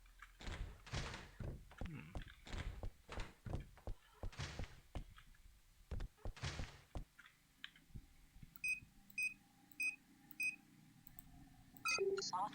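Electronic keypad beeps ring out in a steady run as a passcode is entered in the game DNF 2001, after a series of heavy thunks and slams, with a final tone at the end.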